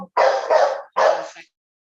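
Barking from a dog, close and loud: two quick sharp barks run together, then a single bark after a short pause, with silence around them.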